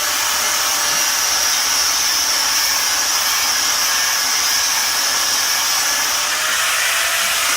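Angle grinder with a basic flat disc cleaning up metal on a 1964 Ford Thunderbird, a loud, continuous high-pitched whine and hiss that holds steady through the whole stretch with no pauses.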